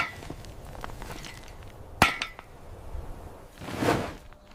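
Heavy hammers strike once, sharp and loud, then a second burst of clatter follows a couple of seconds later, setting up a boma enclosure on dusty savannah ground.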